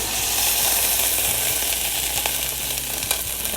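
Crushed garlic hits hot olive oil in a pan and sizzles with a loud, steady broadband hiss and small crackles, close and continuous with no talking.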